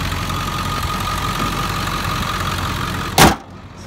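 A 2002 Ford F350 pickup with the 7.3 diesel engine idles at a steady, even rumble with a low knocking clatter and a faint whine, then a short loud click-thump and the sound drops away.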